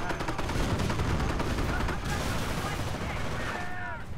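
Heavy, continuous gunfire in the war strategy game Company of Heroes, rapid bursts and scattered shots layered into a loud, dense barrage, with faint voices surfacing near the end.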